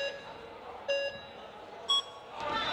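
Speed climbing start signal at a USA Climbing national championship qualification: two short electronic beeps about a second apart, then a higher, brighter tone, over a faint crowd murmur.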